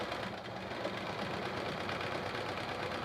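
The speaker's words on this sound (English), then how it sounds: "I just sped up my presser foot because I think I'm moving too fast now." A sewing machine runs nonstop during free motion quilting with the presser foot sped up. Its quick, even mechanical hum and rapid stitching chatter stay close and steady, with no talk.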